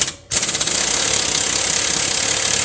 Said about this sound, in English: We're going to try to hit the sway bar link with the impact driver first.